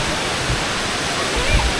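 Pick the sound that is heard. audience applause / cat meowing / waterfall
waterfall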